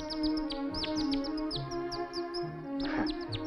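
A human voice whistles an imitation of a nightingale's song, a run of quick, bright chirps and rising trills repeated for a few seconds against a low steady hum.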